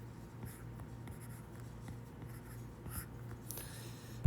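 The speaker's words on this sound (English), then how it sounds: "let's write it down" A pen or pencil writes math factors by hand on paper, soft close scratching strokes in a steady quiet rhythm with a faint background hum.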